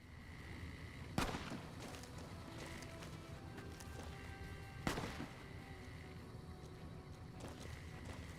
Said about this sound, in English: Okay, somebody's shooting.